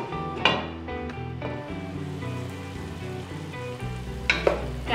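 A cauliflower and fenugreek curry with tomato cooks in a pan, giving a soft steady sizzle and bubbling, with a few louder clinks and scrapes of a spoon stirring, heard close.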